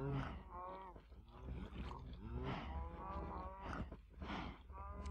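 Several cows in Minecraft low repeatedly, long drawn-out moos overlapping one after another, fairly close and clear with no talk over them.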